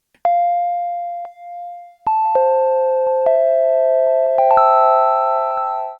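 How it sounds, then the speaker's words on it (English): Synth notes with a subtle tempo-synced delay set low in the mix, a few clean sustained tones stepping through a short phrase, each with faint repeating echoes trailing behind, alone and fairly loud. "I usually use a delay that is pretty low in the mix at a half note or quarter note BPM synced to my track"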